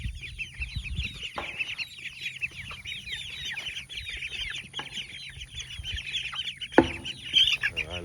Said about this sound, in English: I love this flock. It's mixed with so many cool birds, neat birds, egg layers, ducks, guinea.